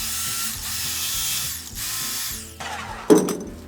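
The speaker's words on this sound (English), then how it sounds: "the good old reciprocating saw. 6-tooth per inch demolition blade that's made for cutting wood and nails." A reciprocating saw fitted with a 6-tooth-per-inch demolition blade cuts through wood and nails. Its harsh, rapid buzzing holds steady in close rasping strokes, then ends in a sharp metallic bite near the finish. There is no talking.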